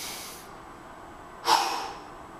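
Someone exhales sharply while lifting weights in a side curl exercise, a quiet breath early on and then one loud, close, forceful burst of breath, with no speech.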